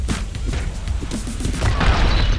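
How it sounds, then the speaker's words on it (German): An explosion in the video game Streets of Rogue, a loud low boom amid a rumbling, crashing burst that swells toward the end. "jetzt bin ich ja durch eine Explosion gestorben"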